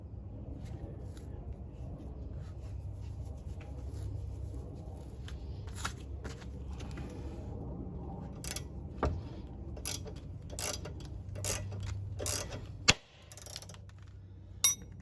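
A 17mm tool spins a ball joint nut loose while fitting Comptech camber bushings on an NSX's front suspension, giving a steady low mechanical whir with scattered metallic clicks and ticks, close and fairly loud.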